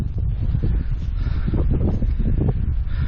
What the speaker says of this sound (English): It's a bit more windy now.